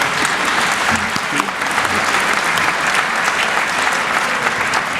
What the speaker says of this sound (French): il applaudit François Burga